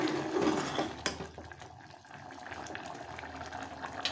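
Bitter gourd kuzhambu curry bubbles in a pot, a soft, continuous simmering burble with a sharp clink near the start, close and fairly quiet.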